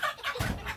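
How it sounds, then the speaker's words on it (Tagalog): A village chicken gives a short burst of clucks, a couple of quick, fairly close calls lasting under a second, with no voices over them. "ang daming manok doon"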